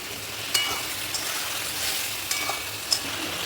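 Tomato paste and spices sautéing in a pan for a vegetarian soya bean curry: a soft, even sizzle broken by a few light clinks of a spoon stirring, no speech.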